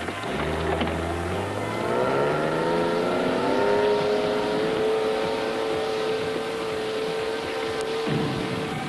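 BV206 tracked over-snow military vehicle driving over snowy mountain terrain, its engine droning loud and near, pitch climbing steadily as it accelerates through gears for several seconds.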